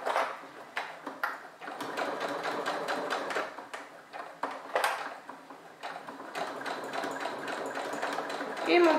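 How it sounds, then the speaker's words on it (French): Sewing machine stitching a seam close to the edge of fabric for a Christmas bonbonnière, a rapid mechanical needle clatter in bursts with brief pauses, close, while someone talks over it. "je vais faire ma couture au plus près du bord du tissu"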